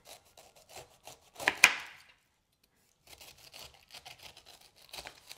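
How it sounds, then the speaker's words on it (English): A knife peeling and chopping a pineapple, with close scraping and cutting strokes in short irregular bursts, one louder crunchy cut, then a pause before rapid lighter chopping. "I'm going to peel my pineapple and then chop it up"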